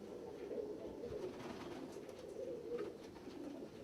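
Archangel pigeons coo softly in a loft, low repeated throaty murmurs overlapping at a gentle rhythm, quiet and close with no talking.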